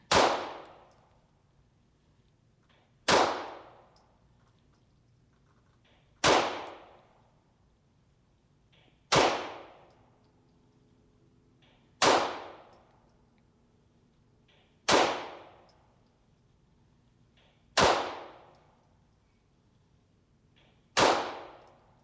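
A MAC9 DS Comp pistol firing remanufactured 115-grain ammunition at a shooting range: eight sharp, loud single shots spaced about three seconds apart, each followed by a quick decaying echo, with no talking.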